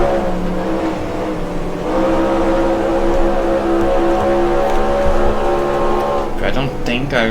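Race car engine at Riverside in NASCAR Racing 2003, 1970 Falstaff 400, droning steadily at high revs with pitch rising and shifting as the car accelerates, loud and continuous throughout.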